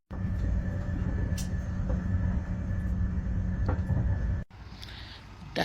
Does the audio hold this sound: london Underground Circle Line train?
yes